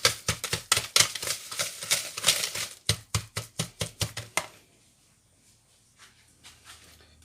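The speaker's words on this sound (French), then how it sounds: "on va blanchir ce mélange, on va bien remuer jusqu'à quand ça devient un peu plus clair" Egg yolks and sugar whisked by hand in a bowl for a sponge cake made without baking powder, a fast run of sharp clinking strokes against the bowl that stops halfway, leaving near silence with a few faint taps.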